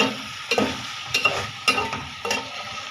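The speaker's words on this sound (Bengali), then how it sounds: "এটা তরকারিটা কষানো হয়ে গেছে এখানে পানি দিয়ে দিব" A spoon scrapes and stirs a sizzling curry of potato and dried fish (shutki) in a hot pan, with four distinct stirring strokes over steady frying hiss and no talk.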